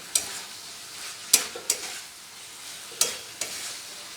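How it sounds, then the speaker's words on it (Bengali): Flat beans and spices are sautéed in oil in a pan for a rohu fish curry. Sharp spoon scrapes and clicks come at irregular intervals over a soft, continuous sizzle, heard up close without speech. "এবার ছিল দিয়ে মশলার সাথে ভালো করে একটু কষিয়ে নিয়ে জল দিয়ে দেবো"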